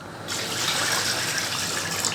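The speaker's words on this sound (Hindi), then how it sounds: "अब इसमें हम पानी ऐड करेंगे," Water gushes steadily from a tap or jug into a cooking pot holding 1.25 kg of mutton, a continuous close splashing pour that starts abruptly after a brief quiet moment and runs without pause.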